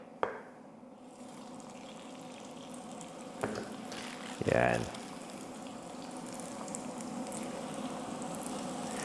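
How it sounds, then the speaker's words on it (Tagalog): Steady hiss of oil sizzling in a pan while frying lumpiang shanghai, with a brief louder crackle partway through as a roll is dropped in; a short spoken word early on. "pag nagpiprito tayo, dahan-dahan lang yung paglagay eh"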